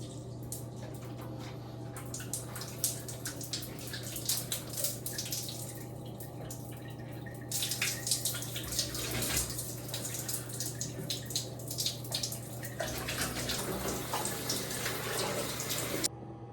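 Water runs steadily from a tap into a bath, a continuous broadband splashing rush that grows louder partway through and carries on alone.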